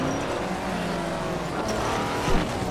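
A Subaru driven in Forza Horizon 4 gives a steady, loud engine drone with tire and road noise and a brief rise near the end, with no voices.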